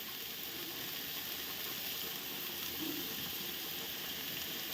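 Chopped onion and green chili sizzle steadily in a hot pan, a dense, even hiss with light crackle running unbroken from start to finish, close and moderately loud.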